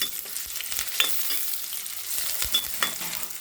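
Dried red chillies and curry leaves frying in oil in a pan, with continuous bright sizzling and occasional scraping stirs, close and steady, no voices, for a bitter gourd dish.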